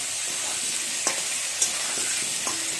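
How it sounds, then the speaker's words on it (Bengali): Potatoes fry lightly in a pan with a close, continuous sizzle broken by a few sharp taps and scrapes of a spoon stirring, and no voices. "আলুটা একটু ভেজে নিচ্ছি হালকা করে"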